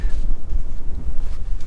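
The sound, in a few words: wind blowing over the Death Valley sand dunes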